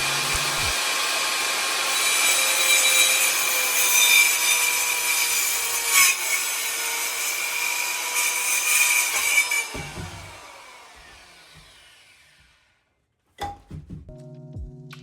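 Wood being sawn during a ceiling renovation in a living room: a steady rasping, buzzing cut runs for about ten seconds, then stops, followed by quiet and a couple of knocks.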